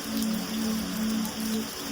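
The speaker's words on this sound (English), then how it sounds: "Hear the rain." Steady rain patters on a surface, a continuous even wash of drops with a faint low hum running underneath, close and moderately loud.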